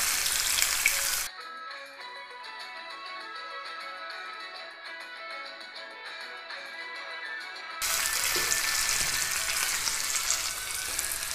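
Cauliflower florets fry in hot oil until golden, a steady dense sizzle filling the kitchen, with a quieter bubbling stretch in the middle before the full crackle returns.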